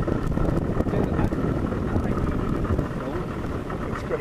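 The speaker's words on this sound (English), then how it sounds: "here comes the wind that's coming with it" Wind gusts over a fishing boat inshore near Jacksonville. A dense, steady roar of wind buffeting the microphone fills the clip, loud and close throughout, with a rumbling low end.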